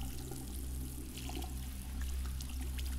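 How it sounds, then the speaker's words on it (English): Shower water running in Among Us on the Airship map, a steady, faint hiss of spray that stays even for a few seconds with no voices. "Take a shower."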